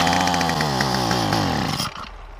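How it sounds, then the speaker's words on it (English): Small two-stroke weed eater engine revving unevenly after a spark plug change, suspected carburetor fault; a loud, buzzing engine note rises and falls for about two seconds, then abruptly drops away as it dies. "since we changed the spark plug and it doesn't want to run"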